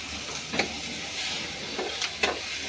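Onions, tomatoes and curry leaves sauté in a hot pan, giving a steady low sizzle with a few brief louder stirring scrapes and hisses, close and with no talk.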